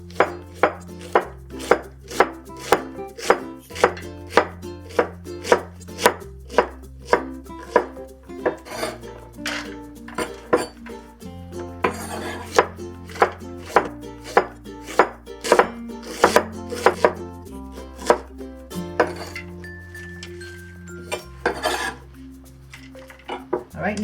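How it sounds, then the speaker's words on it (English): A knife chops rapidly and steadily through cabbage on a cutting board, cutting it into shreds with a dense run of crisp, sharp knocks that carry on throughout, close and alone with no talk. "I'm going to cut it into shreds."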